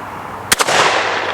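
Two sharp, loud gunshots from a .45 ACP British Enfield revolver, fired about a tenth of a second apart outdoors, followed by a fading echo.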